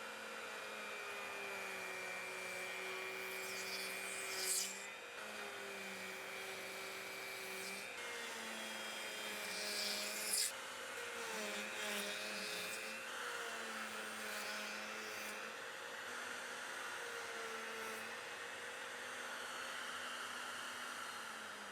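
A Panther router cuts box joints into wood panels, giving a steady, loud, continuous motor whine with small surges as the bit bites, running throughout with no talking.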